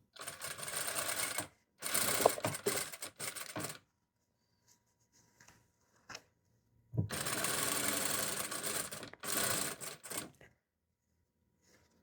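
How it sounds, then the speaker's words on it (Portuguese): A sewing machine stitches pinned fabric in two loud, close bursts of rapid whirring, separated by a quiet pause with faint handling clicks. "Aqui a gente vai costurando onde a gente alfinetou já."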